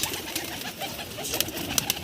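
Many pigeons in a large home loft coo softly together, a steady murmuring backdrop close by with occasional sharper bird notes.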